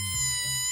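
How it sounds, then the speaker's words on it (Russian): Air escaping from a balloon, a short squealing, whining tone with a low buzzy sputter underneath, close and brief with no talk. "Воздух, который выходит из шарика."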